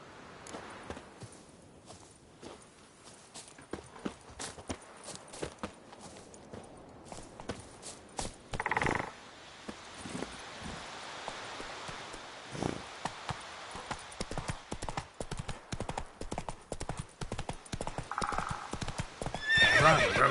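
Roach the horse in The Witcher 3 clip-clops along in a steady hoofbeat rhythm that quickens toward a gallop, with a couple of neighs breaking through and light rustling underneath.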